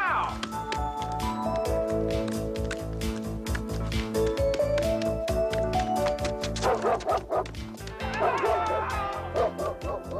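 Dog yelping, yipping and whimpering repeatedly, near and fairly loud, mixed with busy rhythmic music and some voices talking.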